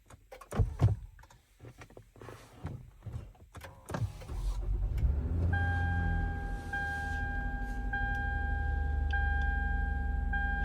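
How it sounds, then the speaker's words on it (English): A Lexus RX350 engine cranks and starts after a battery change, following several sharp clicks and clunks. It settles into a steady low idle hum while faint electronic chime tones sound over it. "Then I go ahead and start the engine."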